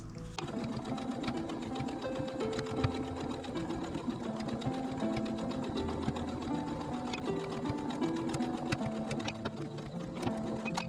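A sewing machine stitching fabric in a continuous, even run of rapid mechanical clatter, close and steady throughout.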